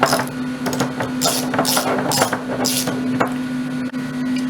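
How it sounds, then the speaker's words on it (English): Nuts being tightened with a 1/2 inch crescent wrench and a 1/2 inch socket wrench on a copper tube clamp at a gas well, giving repeated metallic ratcheting clicks and scrapes in a steady rhythm over a constant background hum. "we're using the 1/2 inch crescent wrench and the 1/2 inch socket wrench, we're going to tighten"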